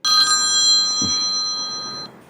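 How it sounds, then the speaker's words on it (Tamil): An outgoing phone call ringing on speakerphone, a steady electronic ring tone lasting about two seconds at close range and fairly loud, with a brief soft thump partway through. "நான் ஒரு ஃப்ரெண்ட் ஒருத்தர் ஃபோன் பண்ணுறேன்"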